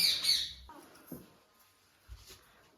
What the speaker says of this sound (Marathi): बोक्याचा म्याव म्याव चालला